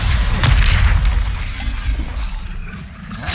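Expelliarmus spell cast in the video game Hogwarts Legacy, a loud booming magical blast with a rushing whoosh that swells early and then fades into a rumbling tail.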